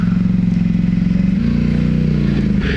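A Hisun Sector 550 UTV drives off-road between spruce trees, its engine giving a steady, close, pulsing drone that shifts pitch slightly partway through.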